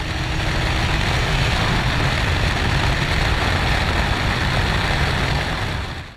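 Yamaha FZ6 motorcycle at wide-open throttle on a highway, a steady loud engine roar mixed with heavy wind rush, continuous and unbroken for the whole stretch with no talking.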